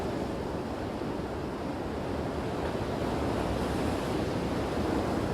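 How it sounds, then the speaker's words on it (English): Storm surge waves from the Salish Sea pound the Gordon Head coastline, a loud continuous roar of crashing surf with gusty wind buffeting the microphone throughout, no voices. "Amazing amount of water coming out off the Salish Sea onto the coast of Gordon Head."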